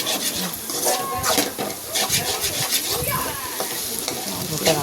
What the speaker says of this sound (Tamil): நல்லா ஒன்று போல் எல்லாத்தையும் சேர்த்து ஒன்று போல் நல்லா திரட்டி எடுங்க.